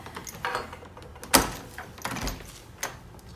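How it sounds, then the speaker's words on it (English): Hotel room door fitted with a security device being opened, giving soft handling rustles, then a sharp loud latch clack, followed by quieter scrapes and a final light click, close and without talk. "how this works is when you open the door"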